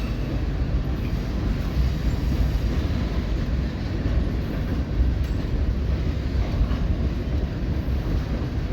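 Freight train rolling past the CP Hall junction in Lincoln, Nebraska, a continuous heavy low rumble of wheels and cars, steady and fairly close, with no talking.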